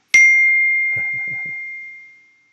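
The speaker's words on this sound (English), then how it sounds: "My phone's going off telling me I'm extra hungry." A phone notification rings out as a single bright, loud ding that lingers and fades slowly over about two seconds, with a few faint low knocks beneath the ringing tail.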